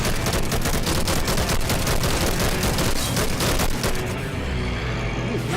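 Dense, continuous gunfire in the VR roller coaster game Epic Roller Coasters, a loud rapid barrage of overlapping shots that runs without pause and eases slightly near the end.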